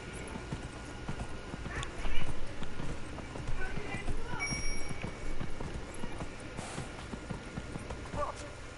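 A horse gallops in the video game Dragon Age Inquisition, a rapid steady clip-clop of hooves with an occasional whinny, mid-level and constant, while a player talks over it.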